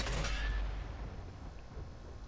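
Loud boom of an LTTB light tank's gun firing in World of Tanks, a single heavy blast at the start that rolls off into a fading rumble.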